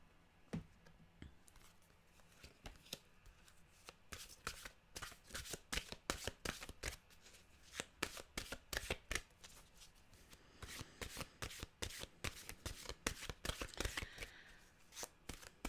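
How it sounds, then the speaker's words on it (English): Mantra cards shuffled by hand for a daily tarot-style focus reading, repeated soft, dry riffling flicks in rhythmic bursts with a short pause midway, close and fairly quiet with no voice. "We'll get a mantra card."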